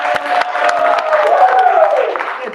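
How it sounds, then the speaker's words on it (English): A crowd applauds and cheers for a child at a noontime show, scattered claps over a rising murmur of voices and a few whoops, fairly loud and close. "Jackson deserves a giant round of applause"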